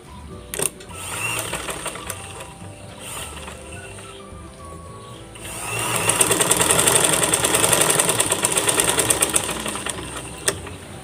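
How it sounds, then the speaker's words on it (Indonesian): A sewing machine stitches the side seam of a modern kebaya, its needle whirring in a steady mechanical rattle that starts quieter and then grows louder and faster for several seconds, with a few clicks around it. "sekarang kita putar ini biar kita jahit sampingnya"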